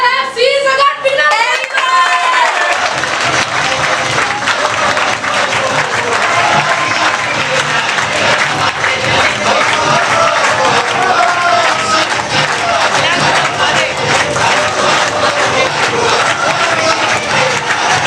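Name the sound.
audience applause and cheering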